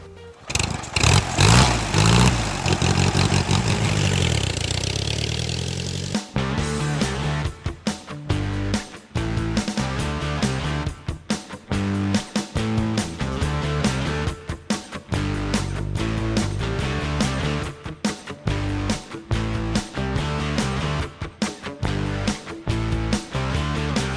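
A vintage Ace motorcycle engine starts with a brief roar, then settles into a loud, close, steady idle with a rhythmic, lumpy pulse that continues throughout; no talking.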